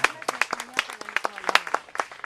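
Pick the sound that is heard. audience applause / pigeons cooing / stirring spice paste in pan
audience applause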